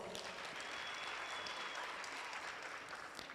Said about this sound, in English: ladies and gentlemen, let's give them another round of applause